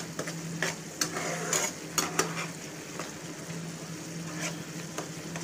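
Tomatoes, onions and spices cook in a pan for masala paneer wraps, a steady low sizzle with a faint hum beneath it and several sharp scrapes and taps of a spoon stirring against the pan.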